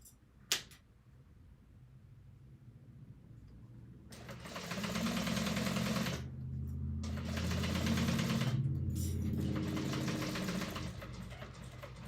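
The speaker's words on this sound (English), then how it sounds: "I'm just going to go around with the second row of stitching just because I am using thick vinyl" A sewing machine runs a second row of stitching through thick vinyl in long steady bursts, a close, loud mechanical whir with brief pauses between runs, after a single sharp click at the start.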